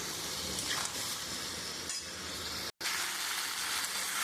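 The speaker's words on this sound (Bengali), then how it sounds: "এবার মশলাটা দিয়ে আমি একটু ভালো করে কষিয়ে নেব" Chilli and cumin masala sizzles steadily in a pan while being fried down for a pumpkin and prawn curry, a dense hiss with a few faint clinks and one brief cut near the end.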